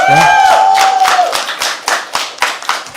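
An audience claps at a live poetry open mic at The Habitat, starting as a dense burst over a fading voice, then thinning into a handful of distinct, loud, close hand claps.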